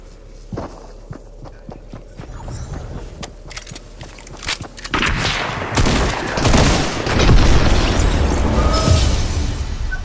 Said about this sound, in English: Because he threw the rocket at me